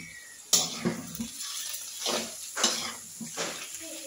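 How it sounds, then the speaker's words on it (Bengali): Egg is stirred into frying bottle gourd peel in a pan, producing a sharp initial clank followed by soft scraping and sizzling strokes at an irregular pace, close by, with no talking. "ডিমটা একটু শক্ত হওয়ার জন্য দেখুন কিছুক্ষণ পর আবার নেড়ে দিচ্ছি"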